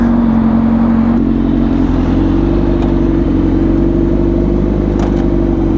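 A Honda CBR1000RR-R SP sport motorcycle engine runs loud and close with a steady, droning hum that rises slightly, with brief clicks over the top.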